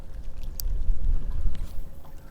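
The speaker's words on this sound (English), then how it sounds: "Look how stiff the wind is." Stiff wind sweeps across open water during a drop-shot fishing outing, a steady low rumble with gusts buffeting close to the microphone throughout.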